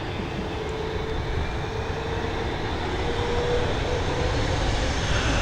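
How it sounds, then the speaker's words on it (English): An Egypt Air A320neo departing Dublin Airport for Cairo, a loud, continuous jet engine roar with dense broadband rumble held steady throughout, close and without talk. "She's heading over to Cairo, this A320neo."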